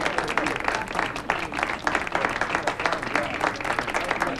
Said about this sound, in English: let's have a big round of applause for Father O'Brien and his most worthy cause